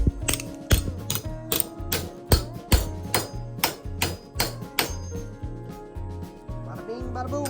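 A hammer taps repeatedly on a warped plastic part of a Craftsman riding mower, producing a close, regular series of sharp knocks with ringing overtones that soften toward the end.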